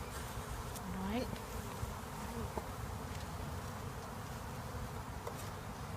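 Honeybees buzz steadily during a nucleus hive transfer, a faint, even drone with occasional individual bees whining past close by and a few light clicks of handling.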